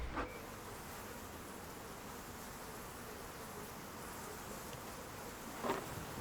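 A faint, continuous buzzing of many bees being calmed with cool smoke from a beekeeper's smoker hums in the background, steady and low, with an occasional closer pass.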